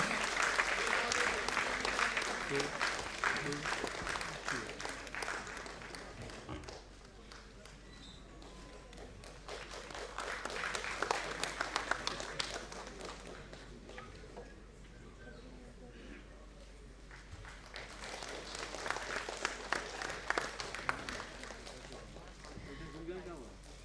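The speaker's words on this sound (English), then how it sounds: "a very big applause, a special applause from all of us is in the order" An audience applauds at an Indian classical music and Kriya Yoga event: three faint swells of clapping, each lasting several seconds with quieter gaps between, and a low background of voices.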